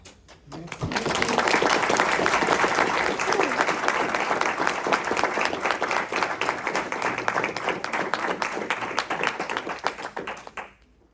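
An audience applauds at the close of a talk, a dense, loud wash of clapping that swells in quickly and holds steady for about ten seconds before dropping away.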